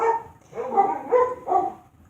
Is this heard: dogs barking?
yes